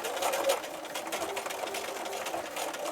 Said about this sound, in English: top stitch around the edge of the whole placemat